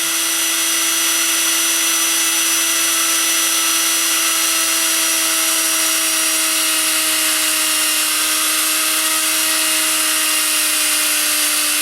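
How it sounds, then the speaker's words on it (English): Small handheld drill boring straight down into a workpiece under light pressure, giving a steady, loud, high-pitched motor whine whose tone sinks gradually as it slows, alone and continuous. "You hear my drill slowing down."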